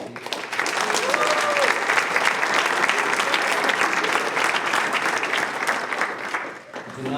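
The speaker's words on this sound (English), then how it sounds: "So I want to give you some applause." An indoor audience applauds graduating senior students with sustained, dense clapping that holds for several seconds before tapering, with faint voices mixed in.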